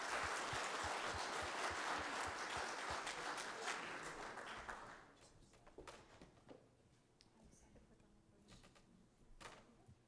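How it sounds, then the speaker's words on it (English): Applause from the audience at an applied economics symposium after a team's presentation, dense and steady for about five seconds before thinning into scattered claps. "Let's give them a round of applause."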